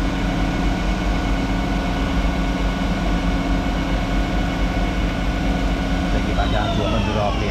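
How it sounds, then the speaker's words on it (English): Takisawa EX CNC lathe spindle running steadily and then reversing direction, a constant mechanical whine and hum with a tone that shifts near the end, while someone talks over it. "It runs up very nicely. Go to S500 M04, and then this will reverse the spindle now."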